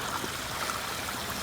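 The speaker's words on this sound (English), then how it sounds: "I think that this is technically a pondless waterfall, maybe." Water trickles steadily through a small garden fountain set up as a pondless waterfall, powered by an old water pump, with a continuous soft splashing wash and no talk.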